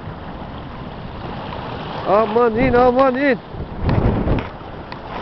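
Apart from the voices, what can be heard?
waves hitting a fishing boat at sea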